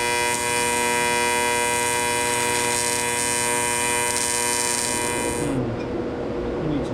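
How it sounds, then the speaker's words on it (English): TIG welder welding a cap over a vent hole during work on a diesel-powered Samurai: a steady, loud electrical buzzing hum for about five seconds, then it cuts off, leaving fainter rustling noise. "let's fire up the TIG welder, zap that sucker on there"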